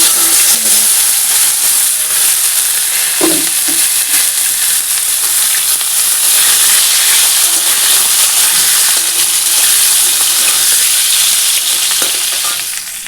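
Whole spices, including dried chilli, garam masala, bay leaf and cumin, sizzle loudly in hot oil with a constant hiss and a couple of brief stirring knocks.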